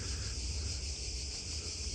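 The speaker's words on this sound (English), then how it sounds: "I love the sound of these bugs. Let me know. Cicadas, they might be." Cicadas buzzing at the Acropolis in Athens: a steady, dense, high-pitched drone that holds unbroken, fairly faint and distant, with no voices.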